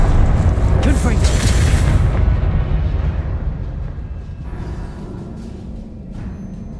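A Confringo fire spell explodes in the video game Hogwarts Legacy, a heavy booming blast that rolls and decays over several seconds, loud and close.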